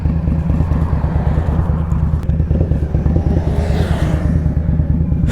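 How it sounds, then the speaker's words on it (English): An Indian Scout Bobber motorcycle engine runs on a spring ride, a loud, close, steady low rumble with throbbing pulses and wind noise, holding an even idle-to-cruise tone throughout. "Bike sounding sweet as always"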